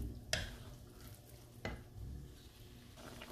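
Ginataang langka with pork stirred in a pot, a soft, faint simmer and scraping broken by a few brief clanks of the spoon against the pot.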